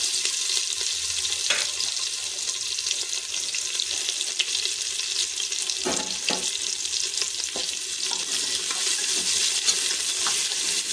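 Onions cook in a pan with whole spices for prawn biryani, a steady bright sizzle running throughout with a few clinking, scraping stirs near the middle, close by and without any voices.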